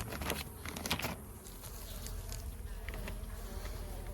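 Honey bees, including papaz arısı, buzzing steadily around a beehive during a strong honey flow, a dense close hum with some brief louder passes.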